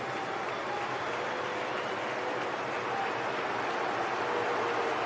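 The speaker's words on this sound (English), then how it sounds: "And Bellingham whips up the crowd" A crowd in a football stadium roars and cheers as England push for a goal, a dense, steady wash of noise with applause throughout that stays constant and fairly loud.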